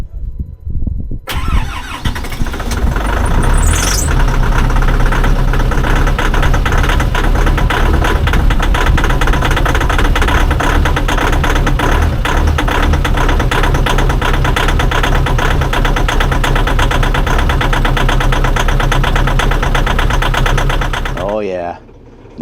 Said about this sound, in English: We're gonna fire it up.